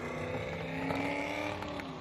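The engine of a Magnuson supercharged Holden Ute drift car holds a rough, droning note with a wavering pitch, heard from a distance at a drift event with a low, steady rumble.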